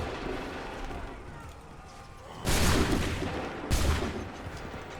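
Two loud musket volleys roar out a second apart in Assassin's Creed 3, each a sharp crackling blast that rolls off into a rumble, with faint shouted commands around them.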